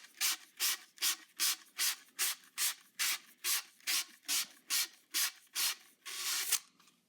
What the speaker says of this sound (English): Stick it in there and use my thumb to kind of sand it.